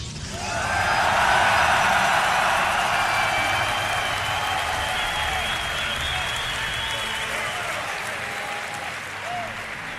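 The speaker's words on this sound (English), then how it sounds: "Make some noise for Hero." A large arena crowd at a Dreamhack StarCraft esports tournament final applauds and cheers loudly, a dense sustained roar of clapping that slowly tapers off.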